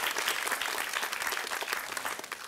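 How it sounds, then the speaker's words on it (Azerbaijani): Continuous crowd applause fills a quiz-show studio, many hands clapping in an even, dense roar that holds steady from start to finish with no voices over it. "Bu alqışlar sizindir"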